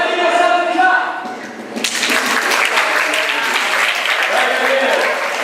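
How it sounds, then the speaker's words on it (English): Talk gives way to a burst of group clapping from a troop of Scouts, which carries on steadily and close by to the end. "give yourself a clap"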